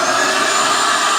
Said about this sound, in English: On with the vacuum.